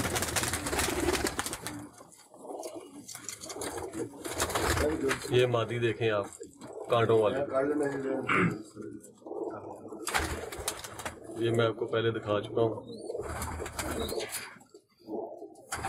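Teddy pigeons coo softly in a loft on a rainy day, their low rolling calls running beneath someone talking almost throughout.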